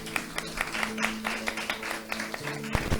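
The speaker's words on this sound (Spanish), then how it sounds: "Un aplauso fuerte a Cristo Jesús." Church congregation clapping in a loose, uneven patter of individual claps at moderate distance, with a faint steady musical hum underneath throughout.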